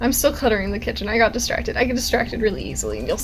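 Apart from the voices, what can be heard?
None of the usual background noises is heard.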